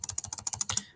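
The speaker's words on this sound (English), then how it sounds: "now I'm typing in SQA number" Rapid typing on a computer keyboard, about a dozen crisp, close key clicks in a quick, even rhythm, then a brief pause and one last keystroke, with no talking.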